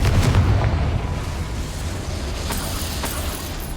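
A Confringo blasting curse in Hogwarts Legacy erupts in a heavy, rumbling explosion that is already loud at the start, then settles into a sustained roar with a few faint crackles, and no one speaks.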